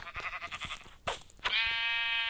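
A sheep in a Minecraft-style hardcore survival game gives a short series of wavering bleats, then a longer sustained bleat after a couple of soft crunches, clear and close.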